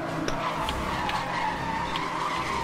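Car skidding through a curve in Need for Speed Hot Pursuit, a sustained tire squeal over a racing engine, loud and continuous with no talk.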